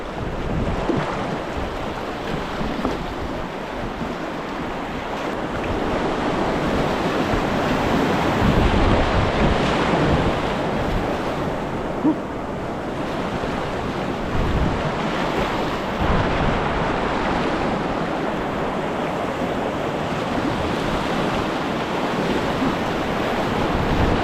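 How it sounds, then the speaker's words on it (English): Kayak running river rapids on Section 9 of the French Broad, a continuous roar of rushing whitewater with wind buffeting the microphone, loud and steady throughout with no voices. "just ran the rapids right there at it and just beyond it"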